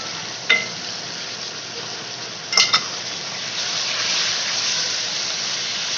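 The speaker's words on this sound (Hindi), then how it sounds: "इसको मैं अच्छे तरीके से फ्राई कर लूँगा चिकन को" A kilogram of chicken fries loudly in a pan, a broad, steady sizzle close by, punctuated by a few sharp metallic clinks of a utensil against the pan, with no talking.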